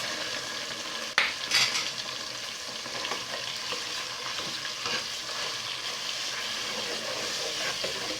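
Tomato paste goes into a pot of hot oil for a fish stew, giving a steady low sizzle and frying hiss with a sharp clink near the start and soft stirring scrapes throughout.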